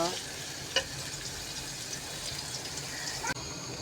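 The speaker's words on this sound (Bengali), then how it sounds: "পেঁয়াজটা ভাজা শেষ" Onions fry for biryani, a soft, steady sizzle at moderate distance with a couple of brief clinks from the pan.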